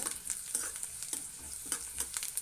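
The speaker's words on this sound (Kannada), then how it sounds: "ಇದು ನಾನು ಈಗ ಫ್ರೈ ಮಾಡ್ಕೊತಾ ಇದ್ದೀನಿ" Onions softening in a pan for a Kalaburagi-style brinjal dish, frying with a steady sizzle and repeated light scrapes of a stirring spoon, close and moderately loud, no talking.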